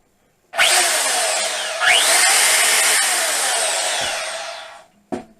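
A DeWalt DWM120K deep cut portable band saw runs loudly and steadily for about four seconds, then winds down, with a short clunk near the end.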